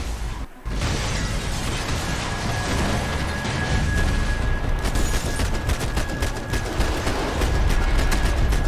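Sustained loud gunfire from the video game Max Payne 3, dense rapid shots and bursts rattling continuously in a chaotic shootout after a brief pause at the start.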